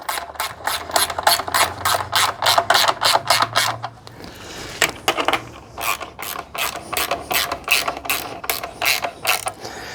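A hand ratchet clicks rapidly and loudly close by, tightening bolts on the motor adapter plate of an electric Jeep CJ-7 conversion, in two runs of evenly spaced clicks separated by a brief pause.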